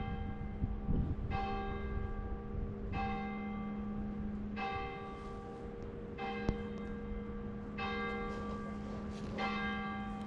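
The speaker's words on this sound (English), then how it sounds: "church bells." Church bells ring out in repeated, resonant strikes, each tone hanging and fading before the next peal, heard from a moderate distance.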